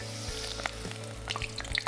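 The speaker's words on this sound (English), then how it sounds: "We'll take spinach leaves. So we'll put one by one into the fryer." Close, crackling sizzle of battered spinach leaves deep frying in hot oil in a fryer, with scattered pops and bubbling over a steady hiss.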